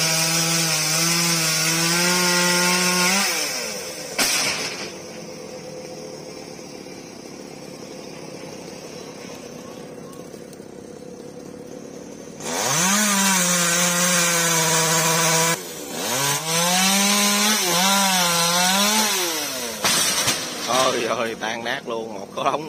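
A chainsaw cuts a huge old fig tree, its engine revving hard in loud bursts, dropping to a low idle for several seconds, then roaring again with rising and falling pitch as it bites into the wood.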